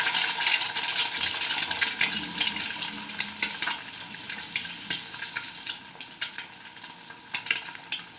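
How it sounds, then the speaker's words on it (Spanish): Egg frying in hot oil in a pan, giving a close, busy crackle and sizzle with scattered pops that eases slightly over time and runs on without any voices. "Miren, cuando hay aceite se pone así, está friendo ahí."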